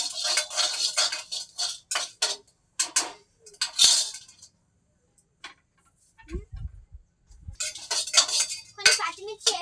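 Green chillies being mixed into a dish in a pan, bursts of clinking and scraping of a metal spoon against the pan in quick irregular runs, separated by short silences, with a brief low thud midway.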